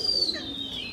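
Hyderabadi pigeons kept by a fancier make a single short, steady low coo with a faint higher tone above it, close and alone.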